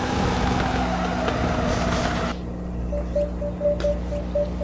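Drifting car in the FR Legends video game running at full throttle, a loud sustained engine roar with a steady tone that drops in intensity partway through, then continues more evenly to the end.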